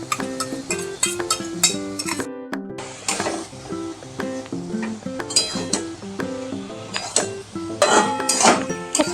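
A spatula stirs a ground paste of chilli, onion and poppy seed into ridge gourd frying with potato and hilsa fish head, giving repeated close clinks and scrapes against the pan over a melodic tune.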